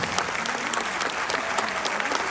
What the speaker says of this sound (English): A big round of applause for all the musicians.